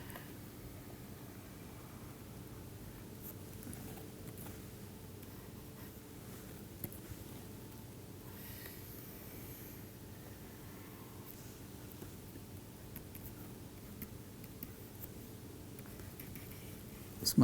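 A lecturer draws a diagram on a board during an engineering class on ring vibrations, producing faint, continuous scratchy strokes in a quiet room with no talking.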